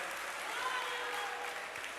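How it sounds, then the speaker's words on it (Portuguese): A church congregation claps in steady, sustained applause that fills the room, with a faint voice or tone lingering underneath. "Aplauda o Senhor."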